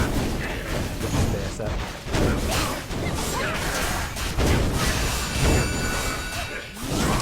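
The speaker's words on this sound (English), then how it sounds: "I'm gonna mostly use the fire tornado thing." Fire tornado skill cast in the game Blade & Soul, heard as dense, loud bursts of whooshing, crashing combat effects that surge and fall in rapid succession, with a voice talking in places.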